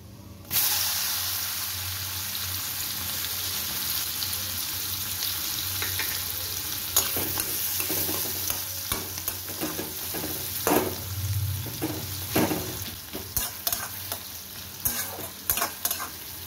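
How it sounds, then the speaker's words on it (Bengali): Chopped onions hit hot oil and sizzle loudly and steadily, followed by repeated scraping and clattering as a utensil stirs the pan. "এবার আমি এর মধ্যে পেঁয়াজ কুচিটা দিয়ে দেবো"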